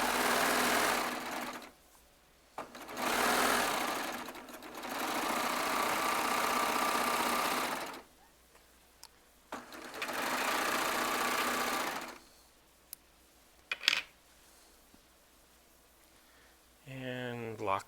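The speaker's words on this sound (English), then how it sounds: "I just let it go under the serger needles" Serger sewing machine stitching fabric charm squares, running in several loud whirring bursts of a few seconds each, separated by quiet pauses with handling noises, close by.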